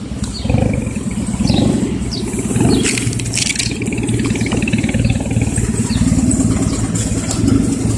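A pickup truck engine idles roughly, nearly stalling, and revs a few times, a low throbbing rumble rising and falling, with faint background noise.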